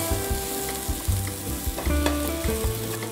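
Garlic hits a hot pan for stir-fried baby green beans with beef, crackling and sizzling loudly up close while being stirred, with bursts of scraping and popping throughout.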